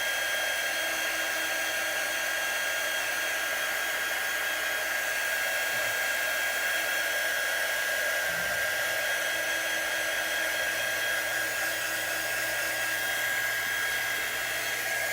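A hair dryer blows steadily on freshly painted wet nail polish, a loud, continuous whooshing hum that holds unchanged throughout, close by and with no talking.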